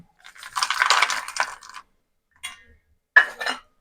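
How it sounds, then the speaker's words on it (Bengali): Oil-fried peanuts spill into a bowl with a steady dry rattle of small hard nuts for over a second, then a couple of brief clattering bursts as more are tipped in. "এবার আমি দিয়ে দেবো এর মধ্যে তেলে ভাজা বাদাম,"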